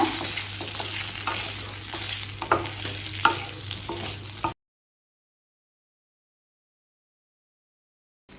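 Fried chicken pieces for Chicken 65 are stirred in a hot pan with ginger, garlic and green chilli, giving a steady sizzle with scraping stirs for a few seconds before cutting to silence.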